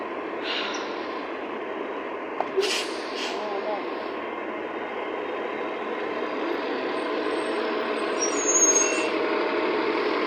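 A bus pulls up on a street, its engine rumbling steadily, and a short sharp hiss of air brakes sounds partway through, with traffic noise continuing around it.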